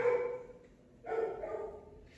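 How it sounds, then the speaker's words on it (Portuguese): Dog barking in two loud bursts with a short gap between, close by and with no talk over it. "Veio o cachorro para nós hoje."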